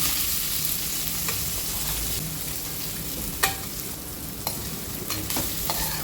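Moth beans are stirred into a sizzling tempering of mustard seeds, cumin and asafoetida. A close, continuous crackle is broken by a few sharp scraping stirs, with no talking.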